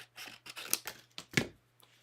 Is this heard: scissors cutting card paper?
yes